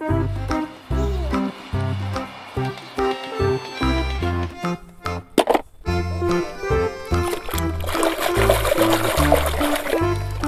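Water splashes and trickles while a toy sand dump truck is washed, over steady background music, with the splashing growing broader and more continuous toward the end.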